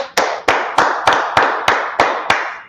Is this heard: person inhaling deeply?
no